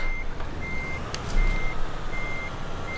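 A truck in Euro Truck Simulator 2 reverses while parking, its backup alarm beeping in an evenly spaced repeating pattern over a low engine rumble, with a brief hiss of air brakes midway.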